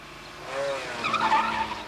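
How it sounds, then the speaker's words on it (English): Honda road car pulling away from a standing start on a racing circuit, with a short tyre squeal and rising engine note building over under two seconds at moderate distance. "We'll give the road cars a start over one standing start lap."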